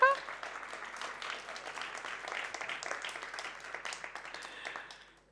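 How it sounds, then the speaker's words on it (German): A large audience gives Gerd Schilling a round of applause at a closing event, dense steady clapping that starts loud, holds for about five seconds and then fades out. "Eine große Runde Applaus für Gerd Schilling."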